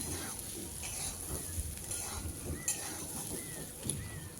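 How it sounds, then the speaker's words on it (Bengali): Kabuli chickpeas fry in oil in a wok, giving a low crackling sizzle with scattered stirring clicks and scrapes throughout. "ছোলাগুলো ভেজে নিয়েছি, এবার নামিয়ে নেব।"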